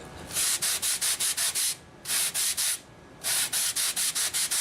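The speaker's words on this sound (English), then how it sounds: "as you sand it, that rounded edge stays consistent down the whole length of it" Rhythmic scratchy sanding strokes on a foam motor mount for an RC race wing, in three quick bursts, each made of rapid back-and-forth rubs, close up with brief pauses between bursts.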